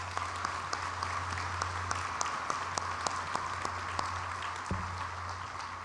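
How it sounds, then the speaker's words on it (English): Steady audience applause at a college commencement ceremony, a dense wash of many hands clapping at moderate distance, sustained without pause, with a low hum underneath. "Let's give them a round of applause."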